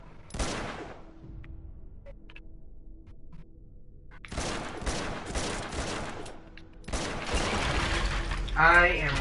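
Bursts of gunfire in the video game Uncharted: Drake's Fortune, with a sharp shot early, then two longer loud volleys of rapid fire, separated by quieter gaps with faint mechanical clicks.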